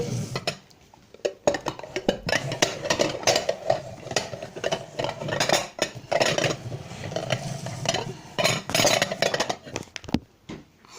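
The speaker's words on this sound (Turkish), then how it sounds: "Evet şimdi karıştırıyorum" A spoon stirs a mixture in a bowl during a candy-versus-real-food challenge, giving steady scraping and clinking against the sides with a few louder knocks, close and continuous.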